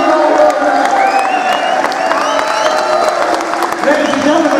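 A boxing crowd at York Hall cheers, whoops and applauds loudly and continuously, a dense roar of many voices and clapping heard up close.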